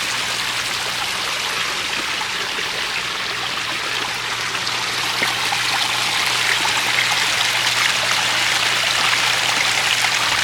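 A small waterfall and stream flow into a two-foot garden pond in an Arizona desert food forest, giving a steady, close, continuous splashing trickle with no voices.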